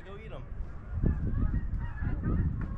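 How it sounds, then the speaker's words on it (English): A flock of geese honks repeatedly in a noisy, overlapping chorus, fairly close, with a faint voice underneath at times. "The geese are back! They're f***ing back!"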